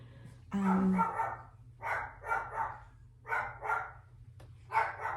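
A dog barks repeatedly in quick pairs, several bursts at moderate distance over a low steady hum.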